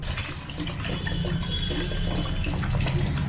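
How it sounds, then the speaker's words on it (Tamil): Water is poured into a cooking pot for a non-vegetarian breakfast dish, about a litre in a steady, splashing stream that runs without a break from start to end, close by and with no talking. "இதில் 1 லிட்டர் போல் ஒரு 4 கிளாஸ் அளவுக்கு தண்ணி தாராளமாக ஊற்றிக்கலாம்."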